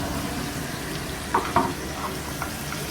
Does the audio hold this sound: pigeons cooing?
no